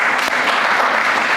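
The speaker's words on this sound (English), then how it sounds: "Actually, a big round of applause for Renee." Audience gives a round of applause for a chef at a Web3 research and development funding event, dense steady clapping filling the short moment with no talk over it.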